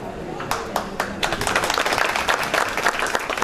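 Audience applause at an evening show, a scatter of separate claps that builds into steady clapping from a crowd over about three seconds, with voices mixed in.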